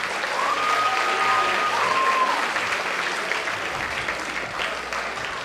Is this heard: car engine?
no